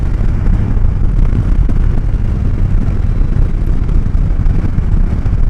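A Can-Am Spyder F3 accelerating along winding country back roads, a loud steady engine roar mixed with heavy wind rush throughout.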